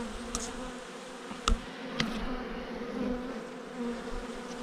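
A dense, low hum of many honeybees buzzing close by inside a hive, steady throughout, with a few faint knocks and clicks.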